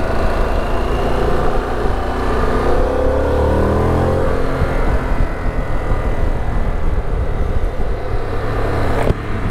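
A Harley-Davidson Pan America 1250 motorcycle roars continuously on a ride, a loud engine drone under heavy wind rush that swells and shifts in pitch partway through as the bike accelerates.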